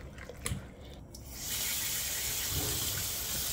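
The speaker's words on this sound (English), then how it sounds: "I'm just gonna rinse it thoroughly under the running water." Water gushes from a kitchen tap over raw chicken being rinsed, starting after a few faint handling knocks and settling into a steady, close splashing flow.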